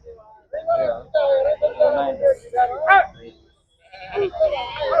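Sheep, lambs and goats bleat at the Chillakallu sheep and goat market. Several wavering, close bleats follow one another, broken by a short pause, and human voices may be mixed in.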